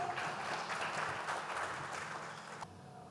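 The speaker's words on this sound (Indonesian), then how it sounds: "Boleh kita beri tepuk tangan yang meriah?" Audience applause at a UGM geology alumni reunion, a steady wash of clapping from a seated crowd that fades slightly near the end.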